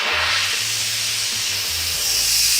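Steam blasts hard and steady from the release valve of a pressure cooker holding a vegan sweet potato stew, a loud, continuous hiss with no break.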